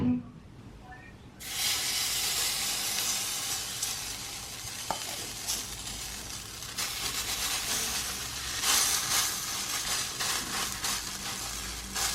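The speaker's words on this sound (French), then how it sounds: "Toujours un spray d'huile." Cooking oil sprayed onto a hot pan while making cabbage and shrimp pancakes, heard as a sudden loud hiss that settles into a steady, close sizzle lasting several seconds.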